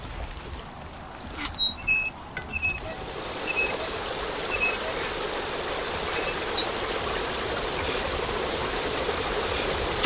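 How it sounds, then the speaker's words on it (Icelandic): Water is poured in a comedy sketch, a steady rushing stream that carries on for several seconds, with a few brief clinks and bangs at the start. "Bæti meira vatni á."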